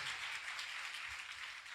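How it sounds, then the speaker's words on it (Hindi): Faint, distant applause from a church congregation, a soft continuous patter of many hands clapping with no voices over it. "उसके लिए जोरदार तालियां बजाएं।"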